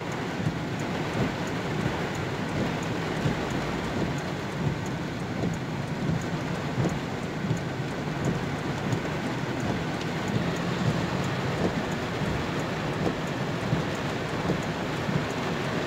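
Heavy rain pours down on city streets in Asunción, Paraguay, in a dense, constant roar, drumming on surfaces throughout with no pauses and no voices.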